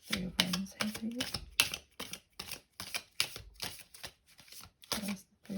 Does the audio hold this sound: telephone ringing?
no